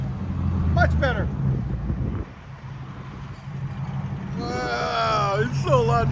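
A BMW with a straight-piped exhaust and stage 2 tune rumbles loudly, the deep engine note dipping briefly then settling into a heavy idle while people talk over it.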